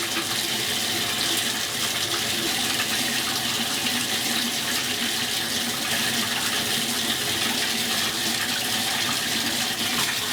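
Tap water running hard and steady at close range to rinse shaving soap off, a dense unbroken hiss with no voices.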